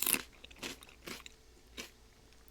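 Crisp bites and chewing of crunchy raw celery, close up and alone: a sharp snap followed by several spaced crunches at a slow, even rhythm.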